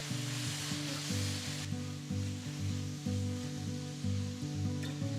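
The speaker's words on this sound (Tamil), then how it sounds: "ரெண்டு தக்காளி பொடியாக நறுக்கினது போட்டு ரெண்டு நிமிஷத்துக்கு வதக்குங்க" Steady sizzling of chopped tomatoes and onions sautéing in a hot pan, continuous and close, over a low background hum.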